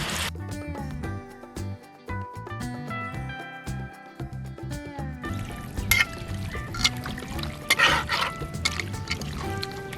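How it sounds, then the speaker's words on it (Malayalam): Water pours steadily into a pan of beef curry, a continuous splashing pour that follows a stretch of music and runs to the end. "വെള്ളം ഒഴിച്ചു കൊടുക്കാം."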